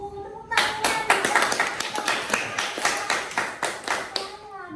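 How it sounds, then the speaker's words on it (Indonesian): Schoolchildren clap in a classroom: a burst of quick, fairly regular hand claps from a group runs for about four seconds at moderate loudness, with a brief voice just before it starts and another as it fades. "Oh, tepuk tangan."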